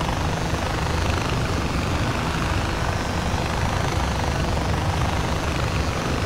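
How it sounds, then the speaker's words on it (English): Helicopter in the video game Far Cry 4, a steady loud whirring rotor and engine roar holding constant throughout with no pauses or talk. "Oh man, these choppers are nice."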